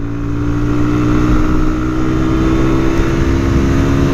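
A GPX Demon motorcycle engine, with about 13,000 km on it, roars loudly and steadily, revving up under load as the bike accelerates in fourth gear with a pillion rider, close to the microphone.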